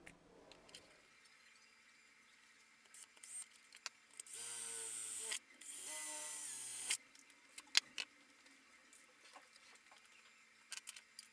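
A power drill bores holes in a rack mount plate, two steady whirring bursts of a second or so each amid quiet handling clatter.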